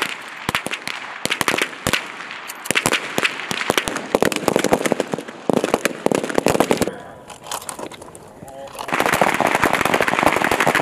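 Small arms fire at a US Army shooting competition on a range: rapid strings of sharp pistol and rifle shots, loud and close, with brief pauses and voices heard between the bursts.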